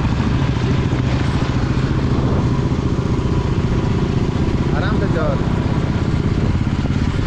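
A motorcycle engine runs steadily throughout at a busy market crossroads, a continuous rumbling drone under nearby talk and street bustle.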